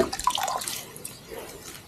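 Spring water from an outdoor well trickles and drips in a few quick, close splashes that fade into a faint steady flow over about two seconds.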